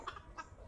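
A chicken gives a couple of short, close clucks over faint background noise, with no voices present.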